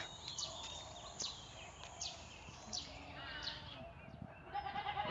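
Pregnant female goats bleat on a farm, several short calls spread across a steady outdoor background with birds chirping faintly.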